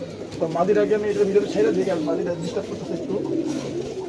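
Pigeons coo continuously in low, throaty bursts, close by and fairly loud, with a voice talking over them.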